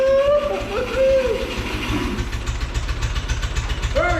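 Ferguson TO20 tractor that had sat unused since 2013 cranking and catching on its first start after a points cleaning, a loud rhythmic low engine chug with brief voice-like tones over it.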